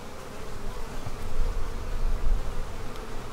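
Honey bees buzz in a steady, dense drone around a hive frame with queen cells during a bee barn inspection, low and continuous throughout with slight swells, no voices.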